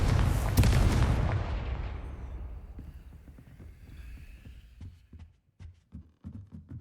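A heavy, booming Confringo blast spell in Hogwarts Legacy erupts loud and close, then rumbles away into a long decaying tail, followed by softer rhythmic thuds.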